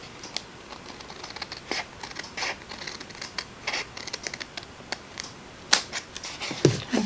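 Scissors trim a paper envelope in a series of quiet, irregular snips and crisp paper clicks, close up and faint, with a few louder rustles near the end.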